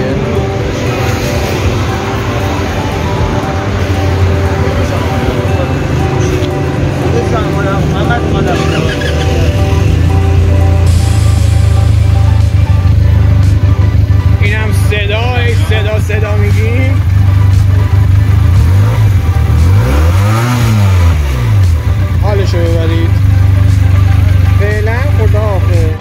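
Benelli 330 motorcycle engine running steadily with a low, continuous rumble that grows louder midway, with a few rising revs toward the end; a voice can be heard faintly over parts of it.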